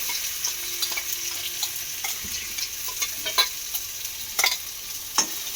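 Spice paste of ground chilies being stirred and mixed with pointed gourd in a frying pan, a steady low sizzle with scattered scraping taps of the spatula, fairly quiet and with no talking.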